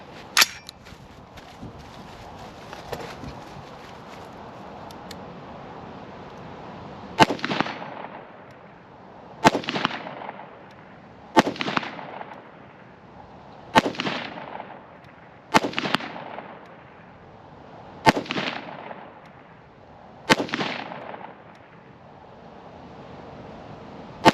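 Rifle live fire at 2-inch and 4-inch targets on a range: seven sharp, loud shots spaced a couple of seconds apart, each followed by a short decaying echo, with steady background noise between and no talk.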